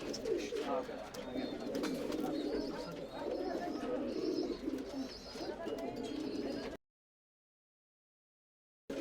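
Tumbler pigeons cooing inside a loft in Bangalore, a steady layered murmur of many birds close by with faint chirps, running continuously for several seconds before cutting to silence.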